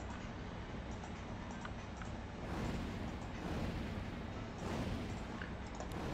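Cannon towers in Warcraft 3 tower defense fire steadily, making a dense, continuous rumble of rapid booms and impacts that stays loud throughout with no pauses and no talk.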